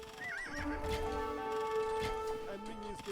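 Cavalry archer horses in a video game neigh and whinny in several overlapping calls over faint clip-clop hooves, loud and close, with game music tones underneath and a voice talking.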